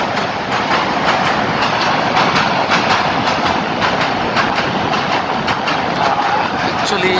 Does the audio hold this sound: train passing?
yes